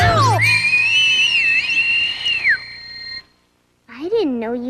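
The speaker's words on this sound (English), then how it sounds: "I didn't know you could whistle that loud" A loud, piercing sustained whistle that wavers in pitch, followed after a brief silence by a voice speaking.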